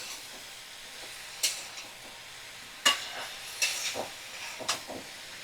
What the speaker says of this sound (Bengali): ভালো করে আমি 5 মিনিট এইভাবে নাড়াচাড়া করে ভেজে নেব